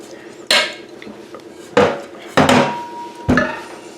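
A metal cake pan is picked up and set down, giving four loud, ringing clanks against a hard surface, spaced about a second apart, with faint rustling between them.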